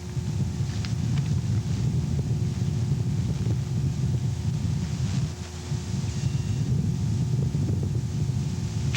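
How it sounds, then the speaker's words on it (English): Volcanic ash eruption recorded close by: a steady, dense low rumble and wind-like roar with faint crackles of rock and pumice, continuous throughout with a brief dip in intensity, no voices. "What's left, the actual sound of an eruption."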